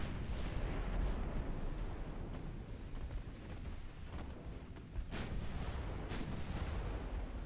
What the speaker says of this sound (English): ricochets